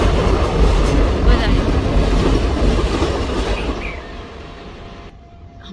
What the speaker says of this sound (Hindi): वो रही हमारी ट्रेन, 4-5 मिनट में पों पों करने आ जाती है